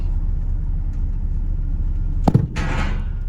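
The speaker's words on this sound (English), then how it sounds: "Well, I don't like that noise. That's the ramp that came off." A makeshift loading ramp drops out from under a Fox Body car with a brief sharp clatter and thud, then a short scraping rush over a steady low engine rumble.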